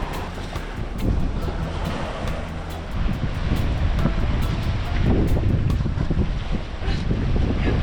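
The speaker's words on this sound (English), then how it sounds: "Windy." Gusty wind buffets the microphone in strong rushing blasts, with surf roaring faintly behind it on an open beach in Curaçao.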